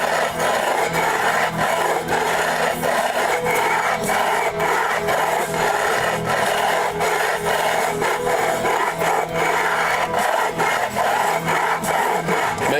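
Metal file scraping along guitar frets to crown them, on an Ibanez or Sterling guitar with the bass side needing work; a steady, continuous rasping and rubbing runs close and alone throughout with short rhythmic strokes.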